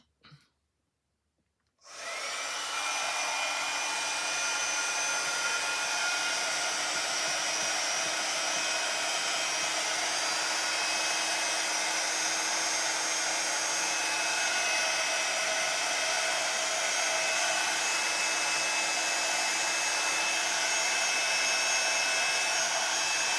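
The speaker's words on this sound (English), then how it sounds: "I'm just going to get my heat gun and try and dry that off a little bit." A handheld heat gun drying a handmade Christmas card with a wreath scene, starting after a brief click and then blowing as a loud, steady, continuous whoosh at close range with no talking.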